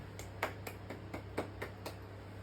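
About eight crisp, evenly spaced hand claps ring out quietly and alone over a low steady hum, closing an opening-lesson class session on bullying.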